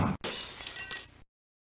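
In Mad Dog McCree, a single shot strikes a box with a sharp, loud shattering crash, bright and brittle like breaking glass, and cuts off abruptly after about a second.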